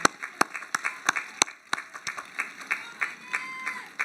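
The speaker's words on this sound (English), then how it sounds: "Okay, you clapped a little too fast." Scattered audience clapping at a Mills College commencement ceremony, a handful of distinct, fairly close claps in an uneven rhythm rather than a full ovation, with faint voices in the background.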